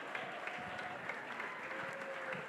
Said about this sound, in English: Can we please give them a resounding round of applause?